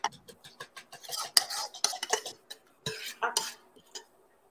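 Tomatoes going into a saucepan and being stirred with onion while making a Mexican dish, heard as close, irregular clinks, scrapes and taps of a utensil against the pan in short bursts.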